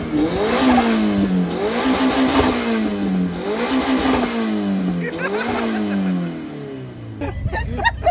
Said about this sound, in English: Thanks for clearing the exhaust out, Jordan.